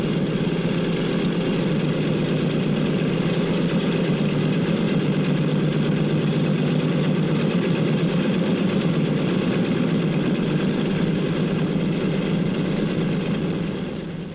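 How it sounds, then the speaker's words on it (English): A steady, loud airplane engine drone with a constant low rumble and higher whine, unchanging throughout, as the plane idles while taxiing to the runway. "The plane starts over to the runway."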